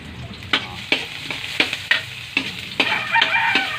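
Garlic and onion sautéing in a pan for Filipino sopas, a loud close sizzle broken by about eight sharp spatula strikes and scrapes at a steady stirring rhythm, no talking.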